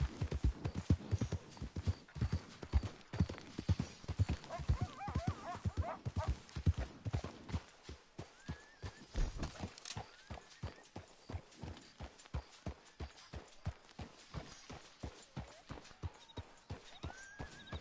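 Horse hooves trot in a steady, close clip-clop rhythm in Red Dead Redemption 2, with a brief whinny partway through and faint game ambience beneath.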